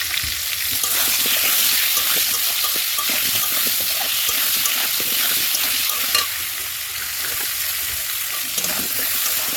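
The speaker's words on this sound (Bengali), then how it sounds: "তেলের মধ্যে আলুগুলি দিয়ে দিয়েছি, এখন আলু ভেজে নেবো।" Potatoes with turmeric and salt fry in oil over a wood-fired stove, giving a continuous close, loud sizzle with occasional stirring scrapes and clinks.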